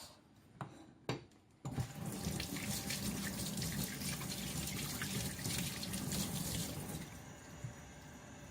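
A kitchen tap runs steadily while a gutted fish is rinsed clean under it for sashimi, with a few clunks at the start before the water splashes continuously and close.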